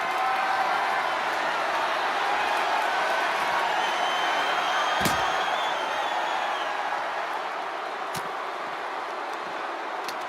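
A virtual arena crowd in the WWE 2K25 wrestling video game keeps up a dense, continuous roar at a constant level, broken by a couple of sharp, brief knocks.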